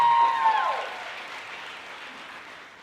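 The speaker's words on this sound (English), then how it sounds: "Let's give her a round of applause." Audience at an opening day event applauding, clapping that starts fairly full and fades steadily over a few seconds.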